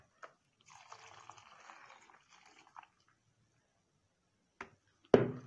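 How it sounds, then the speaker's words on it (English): Dissolved solution trickles and pours into soap batter in a faint gurgling stream over a couple of seconds, followed by a few soft drips and a louder splash or clunk at the end. "So I will add it into the soap batter."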